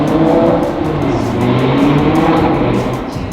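A car accelerates hard past on a Zurich street, its engine roaring loud and close for several seconds before fading slightly at the end.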